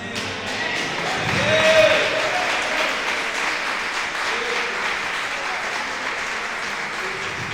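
A church congregation claps continuously during a service, swelling briefly then holding steady, a dense sustained applause filling the room.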